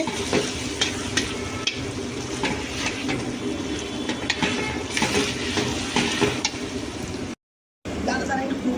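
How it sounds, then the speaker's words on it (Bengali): Onions and tomatoes fry in a pan with a steady sizzle and occasional stirring scrapes, while people talk nearby; the sound drops out briefly near the end. "পেঁয়াজ টমেটো ভাজা হচ্ছে"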